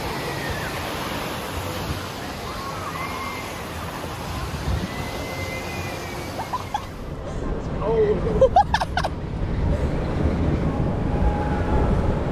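Rushing, churning water from an amusement park rapids ride, a broad steady roar that swells louder in the second half, with scattered splashes and clatter heard from close by.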